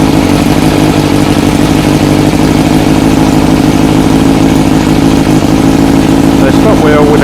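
An engine runs loud and steady at idle throughout while the clutch is dipped to stop a spinning wheel, with a constant low mechanical drone and some voices faintly underneath.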